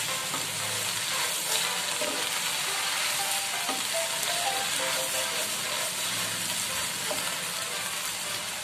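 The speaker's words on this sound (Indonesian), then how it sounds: "Lalu kita tumis." Spinach stir-fries in a pan with salt, seasoning and sugar, a steady loud sizzle and hiss throughout with faint stirring clinks, close and without speech.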